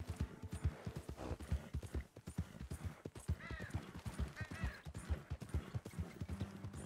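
Horse hooves clip-clopping in a steady rhythmic gait while riding in Red Dead Redemption 2, close and continuous, with occasional brief snorts and faint voices in the background.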